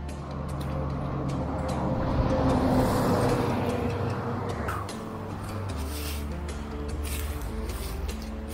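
Steady low engine rumble of heavy vehicles passing on a road, swelling and fading at close range.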